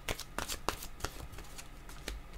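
Tarot cards being shuffled and drawn, close papery riffles and flicks in an uneven rhythm, fairly loud and continuous with no talking.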